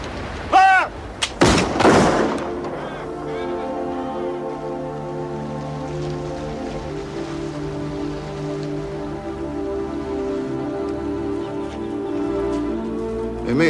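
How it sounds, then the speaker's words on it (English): Soldiers fire a musket volley, a loud ragged burst of near-simultaneous gunshots with booming echoes, then a long sustained rumble and ringing tail. "Present arms. Prepare to fire."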